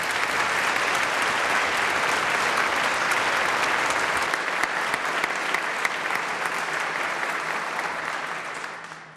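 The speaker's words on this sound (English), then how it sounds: "Give it a round of applause" Legislators in a chamber of the newly renovated Minnesota state Capitol give a long, steady round of applause, dense and even clapping that holds for several seconds before tapering off at the end.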